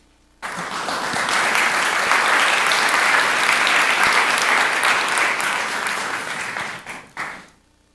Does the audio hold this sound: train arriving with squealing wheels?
no